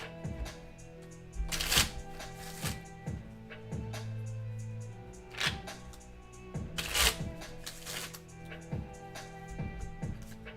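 Tarot cards being shuffled for a psychic reading, with repeated soft riffling bursts and card slaps at an irregular pace, close and fairly quiet with no talk.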